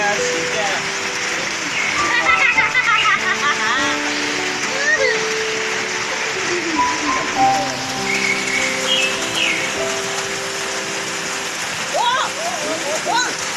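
Rain falls steadily as a broad wash of hiss during a Tai Yai community rice harvest, with several people talking over it throughout.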